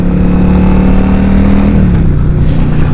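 Yamaha V Star 1100 Custom V-twin motorcycle engine running steadily while riding, a loud continuous low throbbing drone with a slight pitch drop near the end, close and alone with no talk.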